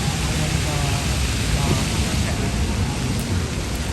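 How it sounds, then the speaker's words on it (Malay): Light rain drizzles over New York City as a steady, even hiss of fine drops, with a low outdoor rumble filling the background throughout. "Tapi sekarang dah hujan. Sekarang macam drizzling kan."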